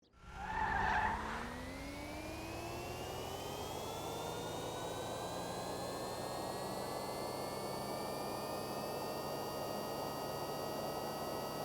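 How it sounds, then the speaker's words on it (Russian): The Coil Voltic electric car in a video game skids at low speed, opening with a short tire squeal that gives way to a steady, rising electric motor whine over a constant rushing hum, with no speech. "На низкой скорости и высокой амплитуде Волтик заносит."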